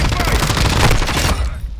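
Dense, loud burst of automatic gunfire from a shooter on a tall building in a military video game, a continuous rattling volley up close that cuts off abruptly, with a voice speaking over it.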